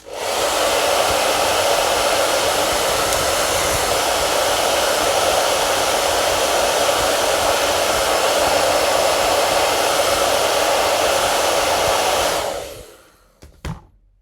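Hair dryer blowing over a watercolor painting, a loud steady whoosh held near the mic for about twelve seconds before switching off and winding down, followed by a couple of small knocks.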